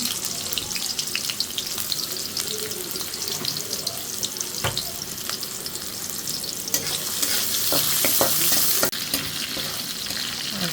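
Chopped onions frying in hot oil in a wok, a continuous close sizzle with occasional stirring clicks and scrapes, swelling louder briefly toward the end, with no voices.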